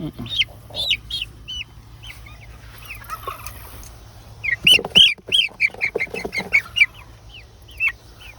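Heavy chickens cluck and call close by on a farm kept with goats, a busy run of short pitched clucks and squawks, sparse at first then denser and louder in the second half.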